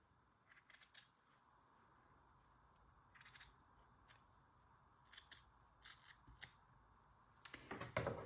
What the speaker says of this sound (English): let me cut it open all the way through